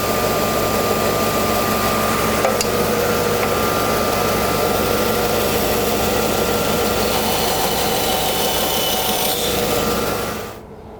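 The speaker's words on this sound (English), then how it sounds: "and put it on the lathe to turn it." Scrap wood spins on a lathe, giving a loud, steady, rushing scrape and hum close by that runs without a break before winding down at the end.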